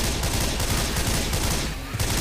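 Dense gunfire from incendiary ammunition in Left 4 Dead 2, a loud, continuous rattle of rapid shots with little pause and a brief dip near the end.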